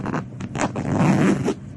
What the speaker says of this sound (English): The first packing cube I can actually zip up.